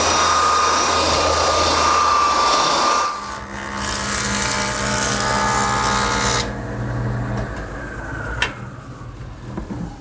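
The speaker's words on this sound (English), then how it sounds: "I'm ready to give each side a light sanding with my belt sander" A belt sander runs over glued-up wood panels for a Shaker wash stand, a steady loud whine that drops in pitch partway through, then fades to a lower hum.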